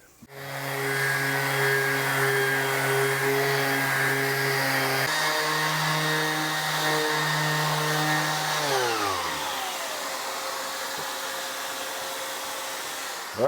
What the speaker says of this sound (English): We're going to sand this flat with some 80 grit sandpaper on a random orbit sander